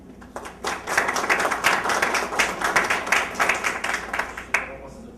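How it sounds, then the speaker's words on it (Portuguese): Applause from the audience at a workshop panel, many hands clapping in a lively rhythmic patter that rises quickly, holds and then tapers off, with possible faint voices mixed in. "Peço uma salva de palmas para o Wilson."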